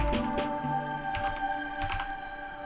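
Typing on a computer keyboard into a text box in design software, a quick run of soft, close key taps that comes in a few short bursts over a steady quiet background.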